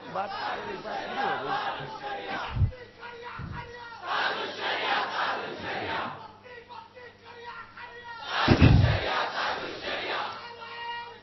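A crowd at a religious speech on faith and disbelief chants slogans in rising and falling waves of massed voices, with sharp thumps and a loud surge near the end, moderately distant.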